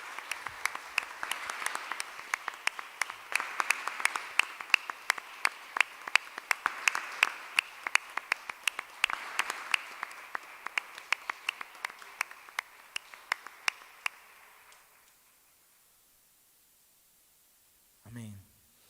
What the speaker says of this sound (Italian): facciamo un altro applauso al Signore allora